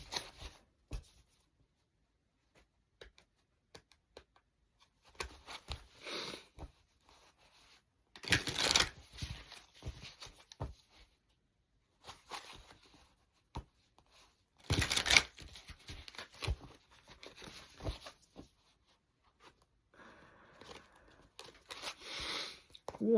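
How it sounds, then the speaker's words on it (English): Tarot cards being shuffled by hand in several short bursts of riffling and papery slapping, with quiet pauses in between, close and fairly soft. "One last shuffle."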